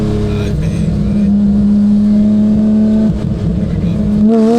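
A tuned 2022 Porsche 911 GT3 with an IPE exhaust revs loudly and close by, holding a steady high-pitched wail that drops sharply near the end before climbing again, with faint voices in the background.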